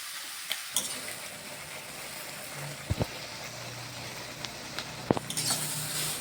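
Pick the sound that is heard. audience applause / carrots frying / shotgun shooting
carrots frying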